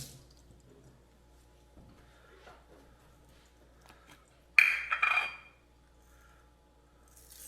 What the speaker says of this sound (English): Now let me rinse this hand off here.